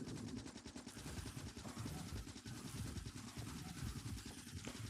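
A machine gun fires in the video game Factorio as a loud, continuous stream of rapid shots that runs without pause, with no voices over it.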